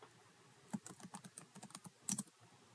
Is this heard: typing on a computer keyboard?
yes